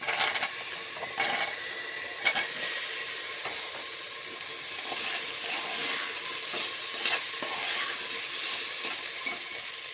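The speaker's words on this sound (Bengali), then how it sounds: "আলুটাকেও দিয়ে দিচ্ছি, আলুটা ভাজা হয়ে যাবে।" Potato pieces frying with mung dal in a pan for a vegetable sabji. Steady sizzling is broken by repeated scraping and clinking stirs, close by with no talking.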